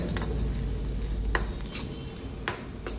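Byadgi chili powder being stirred into hot tempering oil in a small pan, with a steady low sizzle and a few sharp metallic clinks of a spoon against the pan.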